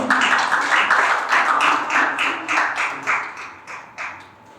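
A lecture-hall audience claps to welcome a lecturer at an arts festival personal-branding class, a dense burst of many hands with separate claps standing out in a steady rhythm that slowly thins and fades.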